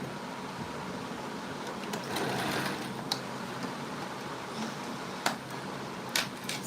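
A sewing machine stitches fabric along the border of a scrunchie, giving a steady, moderately loud whirring hum with a few sharp ticks and clicks scattered through it and no talk.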